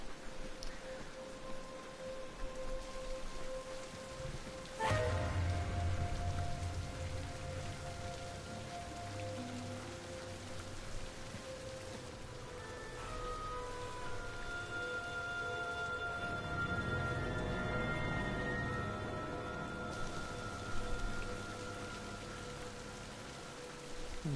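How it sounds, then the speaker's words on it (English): Steady rain patters down throughout in the video game King's Quest, a soft continuous hiss of drops, with faint tonal game sounds drifting underneath. "All this rain should help this tree grow."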